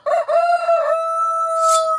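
A rooster crows loud and close in one long cock-a-doodle-doo, rising through a few choppy notes into a sustained, strained final call, heard alone as a sound effect.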